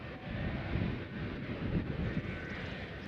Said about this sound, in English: This is American Eagle Flight 3351 coming in from Charlotte.